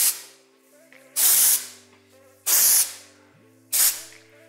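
Three short bursts of dry shampoo hiss from an aerosol can onto hair roots, each sharp and close and about a second long, with evenly spaced pauses over faint tonal background music.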